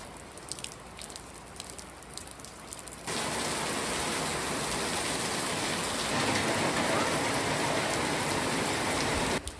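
Heavy rain pours down at an outdoor swimming spot at low tide. The steady, dense hiss of the downpour starts lighter, then jumps to a loud, constant roar that continues to the end.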